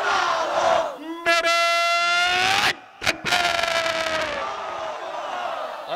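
A large crowd at an Islamic religious gathering roars a loud, chanted takbir response in unison, with sustained voices rising and falling over a few seconds and a brief pause before a second full-throated shout.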